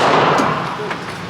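A single loud 5.56 rifle shot fires at a gun range, a close, harsh blast at the very start that fades away in a long reverberant tail.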